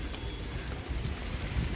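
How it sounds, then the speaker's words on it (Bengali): Steady rain falls on a rooftop garden of bottle gourd greens, a continuous close hiss of drops pattering on surfaces with no pauses, heard alone. "বৃষ্টিও পড়তেছে"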